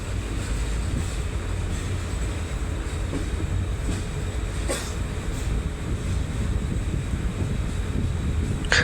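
A Sylhet to Dhaka passenger train rolling slowly past tea gardens, with a steady close rumble of wheels and carriages and wind buffeting the microphone throughout.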